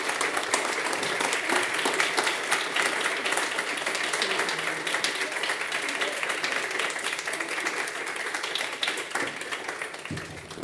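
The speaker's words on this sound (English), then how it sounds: "one more round of applause" A large audience applauds steadily, dense continuous clapping that holds at an even level throughout and thins slightly near the end.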